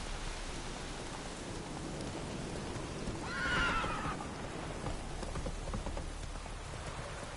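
Roach the horse neighs once, a short clear whinny in the middle of steady rain falling on the ground in The Witcher 3.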